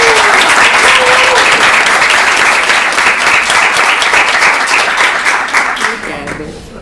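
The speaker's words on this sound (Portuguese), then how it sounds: "Palmas pro Isaac." An event audience breaks into loud, dense applause right up close, a sustained wash of many hands clapping that thins and fades out toward the end, with a brief voice under the start.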